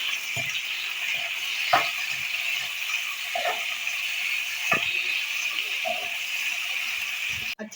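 Small boneless meat pieces frying in a pan make a continuous bright sizzle, broken every second or so by scraping stirs and light knocks from a utensil.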